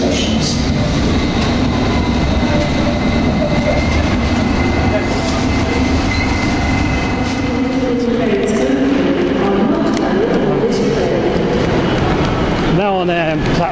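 A train stands at platform 2 of London Euston station, giving a continuous loud rumble of engine and carriages. A brief squeal comes near the end, with some talk mixed into the din.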